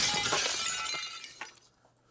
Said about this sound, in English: The frame of his late wife and daughter crashes down.